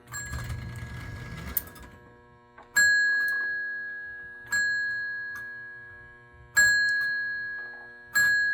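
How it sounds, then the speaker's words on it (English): Bell on a 1940 Lionel semi-scale B6 switcher toy train set (227 switcher engine) rings in four separate bright, ringing strikes, each decaying slowly, after a brief burst of mechanical rattling at the start. "Just love the bell."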